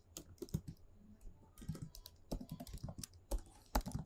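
Keys clatter on a computer keyboard in irregular bursts of close, crisp clicks while code is being edited, with short pauses between runs and no voices.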